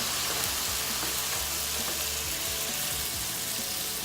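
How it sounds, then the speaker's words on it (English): Water splashed into a hot pan of broccoli sets off a steady, loud hiss of sizzling and steaming that runs unbroken from start to finish, with no voices. "I'm gonna add just a little water"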